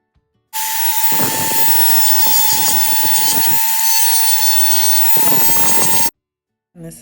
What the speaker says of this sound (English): I use my Dremel again to soften the rough edges, give them a more of a rounded effect.